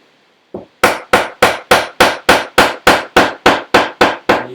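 A wooden wedge is hammered into a tusk tenon about a dozen times, the sharp strikes coming in a steady, even rhythm, loud and close with no talking.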